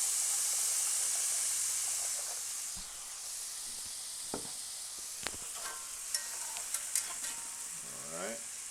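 Northern white beans go into a hot pot for a cassoulet and get stirred, giving a faint, steady sizzle and hiss with scattered scraping clicks from a utensil, and no voices.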